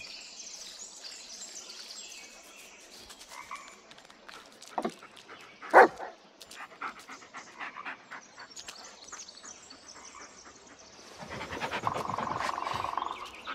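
A dog in the Blair Witch video game barks a few times in the middle, close and sharp, over a quiet background with faint panting and rustling.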